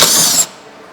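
A socket tool backs out the screw on the rear brake rotor of a 2015 Honda Accord with a brief loud high-pitched squealing whir that stops abruptly after half a second and leaves only quiet.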